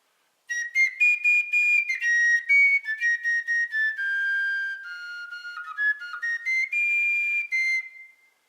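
A fife played alone with a metal mouthpiece, bright whistling notes in a lively tune, some short and tongued, some held, clear and close.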